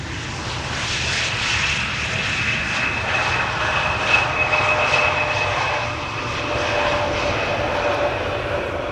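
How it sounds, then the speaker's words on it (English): Airliner landing at Amsterdam Schiphol with idle reverse thrust, a steady broad jet roar with a thin whine, swelling gently and staying fairly close throughout. "Idle reverse landing."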